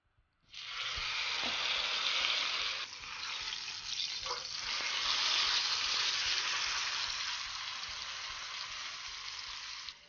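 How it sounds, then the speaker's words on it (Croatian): Salted pork knuckle searing in hot oil in a pan, a loud continuous hiss of sizzling fat that starts suddenly and holds steady, with brief rattles of handling. "sa svih strana je popržimo u tavi na vrućem ulju"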